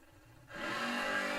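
Drag racing cars, a Camaro and a blue Mustang, at a GABR racing event: engine noise swells in suddenly partway through, then holds as a loud, steady roar.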